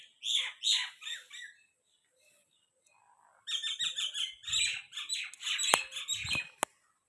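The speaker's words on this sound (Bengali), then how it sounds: "কিচিরমিচির পাখির ডাক" Birds chirping and calling near a house where laundry hangs out to dry, two bursts of quick, bright twittering separated by a quiet pause, with a couple of sharp clicks near the end.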